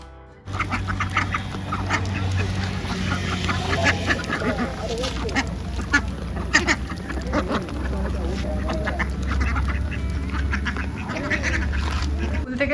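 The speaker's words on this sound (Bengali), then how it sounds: "বাড়িতে হাঁসগুলো পোষা হয় তারপরে এই হাঁস দিয়েই মনসা পূজা দেওয়া হয়" Domestic ducks quack repeatedly and noisily close by, a busy flock calling over each other, with some voices talking in the background.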